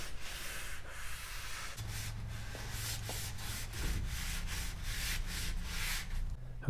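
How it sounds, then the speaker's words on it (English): A towel or rag wipes clean the metal tracks of a garage door, making steady, rhythmic rubbing strokes that are close and moderately loud, with no speech. "Now clean the tracks. Use a towel, use a rag,"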